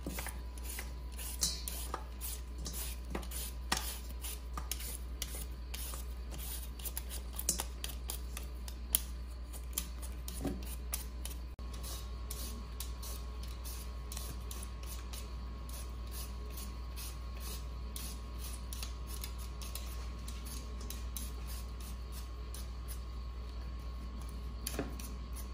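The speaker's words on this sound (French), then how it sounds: "on va éplucher les pommes de terre" Potatoes being peeled by hand for homemade fries: a steady run of small scraping clicks from the peeler, close and fairly quiet over a constant low hum, with no talking.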